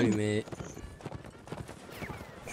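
Horse hooves clip-clop loudly and up close in a video game, with a whinny at the start, then quicker hoof beats continue under excited French chatter.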